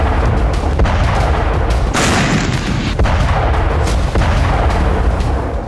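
Explosions in the Russia-Ukraine war boom repeatedly and loudly, one heavy blast after another, over a constant rumbling roar of battle.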